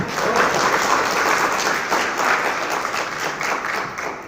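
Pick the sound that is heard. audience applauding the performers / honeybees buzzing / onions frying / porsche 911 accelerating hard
audience applauding the performers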